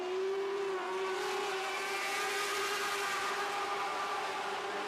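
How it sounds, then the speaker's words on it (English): Sprint cars race around a speedway oval, side by side through turns three and four, their engines a loud continuous droning roar with steady high-pitched tones, no talk. "side by side into turn number 3 and 4, but Unruh gets back on the throttle"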